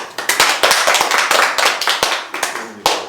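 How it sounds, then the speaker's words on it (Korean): A church youth group breaks into brisk clapping, a dense patter of many hands that rises quickly, stays lively for a few seconds, then thins into scattered claps. "박수!"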